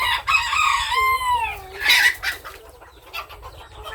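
Bantam chickens cluck and a rooster crows nearby, a loud drawn-out crow followed by a burst of squawking and softer clucks over a low background rumble.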